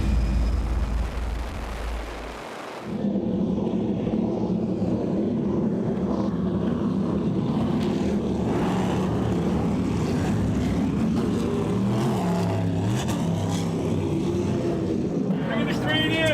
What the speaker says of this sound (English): Boats are coming!